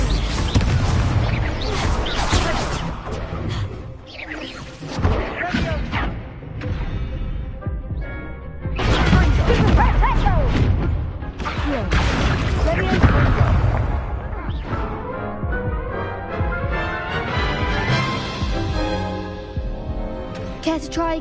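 Explosive Confringo curse blasts going off during a spell duel in Hogwarts Legacy: loud, repeated booming bursts packed densely over a continuous bed of game music and effects, with voices speaking throughout.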